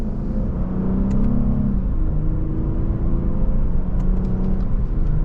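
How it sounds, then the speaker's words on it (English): A 2024 Lexus IS350 F Sport in second gear in Sport S Plus mode accelerates gently. A steady, loud engine rumble builds with a smooth rising drone, heard from inside the cabin with no talking. "And just a mild acceleration."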